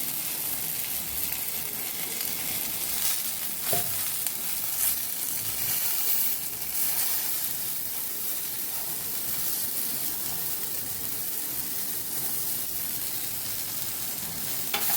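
Tomatoes cooking in a pan over a low flame for a tomato chutney, giving a steady, soft sizzle and hiss throughout with a faint clink near the start, no talk.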